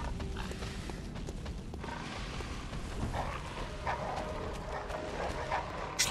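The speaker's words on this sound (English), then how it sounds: "Looks like there's a load of dogs down here." A pack of dogs growls and barks in Bloodborne on PS4, in the dungeon of Hypogean Gaol, with scattered yaps and snarls over a low, murky game ambience.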